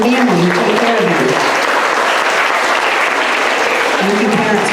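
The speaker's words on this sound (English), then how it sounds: "So big round of applause for your parents and family who take care of you." A school audience gives sustained, loud applause for parents and family, a continuous dense clapping wash with a voice talking over the start and end.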